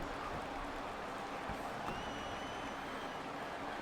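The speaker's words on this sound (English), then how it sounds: "the crowd here in Cleveland, Ohio is going insane for Rusev" A faint, steady crowd roar with scattered applause fills an arena in Cleveland, Ohio, as fans cheer for the wrestler Rusev in the WWE 2K19 video game.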